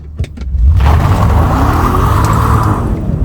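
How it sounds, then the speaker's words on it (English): A BMW with about 370 horsepower launches in first gear in sport mode with traction control off: a loud, close engine roar holds steady over continuous wheel spin for a few seconds. "Yeah, just wheel spin all the way, I'm afraid."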